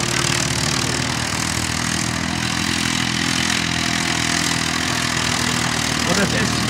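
Vintage three-cylinder tractor engine at an oldtimer tractor event, idling in a steady low throb with someone talking over it the whole time.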